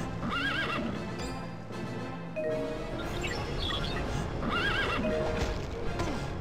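Black Knight's black-and-white horse in the Marvel Ultimate Alliance video game whinnies twice in loud, shrill neighs, with clip-clopping hooves and busy game sound running steadily underneath.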